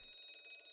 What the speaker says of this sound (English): Ding-a-ling-a-ling-a-ling-a-ling. Uh-oh. That's a fire alarm.